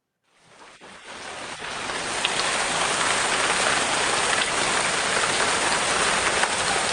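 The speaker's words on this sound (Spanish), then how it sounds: "Una lluvia." Rain swells in from silence within the first two seconds, then settles into a dense, steady downpour hissing on surfaces, loud and unbroken, with no talk.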